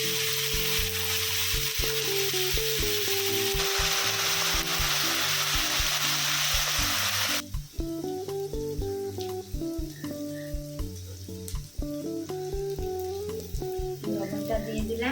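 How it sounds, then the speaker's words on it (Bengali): Onion and garlic frying in oil for a Bengali mutton curry give a steady, close hiss of sizzling over background music, then the frying drops away abruptly and the music carries on alone. "এইবার পেঁয়াজটা পেঁয়াজের সঙ্গে রসুনটাও ভেজে নিই।"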